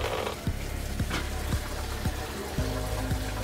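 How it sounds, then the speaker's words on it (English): A portable compact automatic washing machine drains water during its rinse cycle, a steady trickling, splashing flow with regular low thumps roughly every half second from the running machine. "We're now in the rinse cycle and I can hear the water draining."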